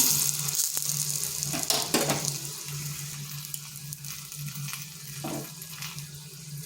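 A paratha fries in oil in a pan over medium heat, a continuous close hiss and sizzle that swells and eases with a few soft bumps.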